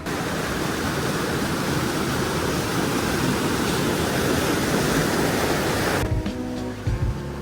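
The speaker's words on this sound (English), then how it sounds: "Now I'm going to show you a little glimpse of how loud the water actually was." Loud, steady rushing roar of water at the top of Stoddard Falls, a dense unbroken wash of sound close by that drops away abruptly near the end, leaving quieter background noises.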